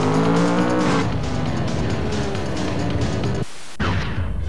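Engines roar and tires squeal in an arcade racing video game, a loud, continuous drive of cars with a sharp skid near the end and a brief dropout before the roar returns.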